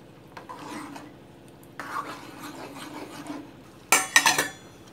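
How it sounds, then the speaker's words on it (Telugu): A spoon stirs amaranth leaf dal in a pot, first with soft scraping and sloshing, then a sharp burst of metallic clinking near the end. "తోటకూర పప్పు ఒక్కసారి కలిపేసుకొని"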